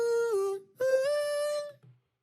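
Processed "ooh" vocal samples from a progressive house song, two sustained sung vowel phrases with a gliding pitch, bright and close, separated by a short gap and ending in a brief tail.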